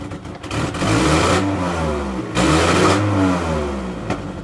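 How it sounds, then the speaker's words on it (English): A truck engine running on Everclear grain alcohol, 152 proof, revs up twice in loud, sustained surges, idling rough and rumbling close by between them. "She's idling rough, but she's idling."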